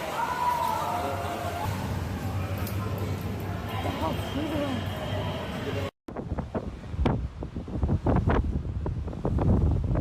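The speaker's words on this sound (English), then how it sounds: "A big wave suddenly crashed against the side of the boat, pounding it." Heavy water surges and wind roar against a hull, with a sharp cut midway followed by bursts of crashing spray and buffeting.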